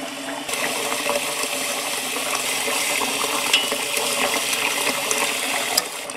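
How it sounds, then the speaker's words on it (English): Water runs loudly and steadily in a home kitchen during cooking, a continuous broadband rush with occasional clinks, close and without talk. "And you're really loud, water."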